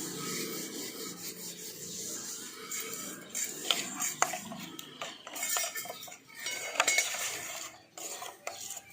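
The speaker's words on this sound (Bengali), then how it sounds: "সব কিছু আবার একবার খুব ভালো করে মিশিয়ে নিচ্ছি।" A spoon scrapes and rubs against a bowl while mixing a spiced marinade with carom seeds and dried fenugreek for paneer tikka, with irregular clinks and stirring strokes close by.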